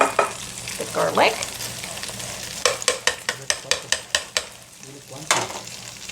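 Chopped garlic fries with pork in a pan under a steady sizzle, while a utensil scrapes and taps in a quick run of sharp, evenly spaced knocks.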